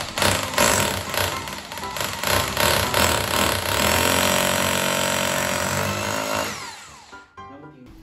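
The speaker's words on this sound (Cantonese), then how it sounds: "首先將鑽嘴安裝到電鑽之上，" An electric drill boring into a wall to mount a TV bracket, a loud, close, steady whine with rattling hammer-action pulses that runs for several seconds before winding down and stopping near the end.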